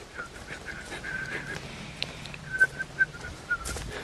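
A wet, dribbly whistling imitated by a voice, with several short sputtering tonal bursts and lip noises, close and moderately loud.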